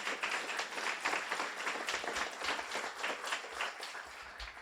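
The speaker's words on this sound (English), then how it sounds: "A round of applause for the kitchen staff" A graduation audience claps for the kitchen staff, a continuous, moderately distant patter of many hands that holds steady without pause.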